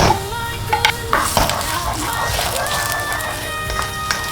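Chopped onion hits hot vegetable oil in a pan, giving a steady close sizzle with scraping stirs and clinks of a utensil against the pan.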